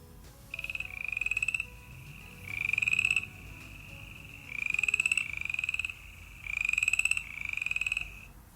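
Four bursts of rapid clicking frog calls, like pebbles tapped together, repeating at a steady pace against a quiet background.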